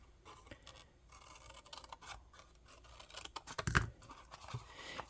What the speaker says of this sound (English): Again, cut up on the score line and cut out the score.